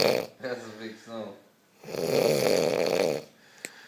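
A man snores loudly close by: two long, rasping, buzzing snores separated by a quiet breath, the second one longer and rougher.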